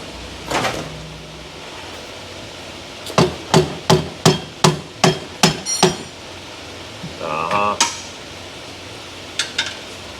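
Metal-on-metal hammer blows work a glued Jeep 3.7 oil pan to free its gasket: a close, loud run of about eight evenly spaced strikes, with a few scattered clanks and scrapes before and after.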